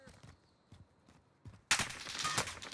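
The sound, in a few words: gunfire in the video game Call of Duty: Warzone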